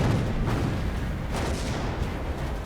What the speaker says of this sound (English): The Johnston opens fire with her few remaining 5-inch guns.